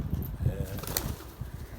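Pigeons coo softly and a red-winged pigeon's wings flutter briefly, faint and somewhat distant, with a low murmur of background noise.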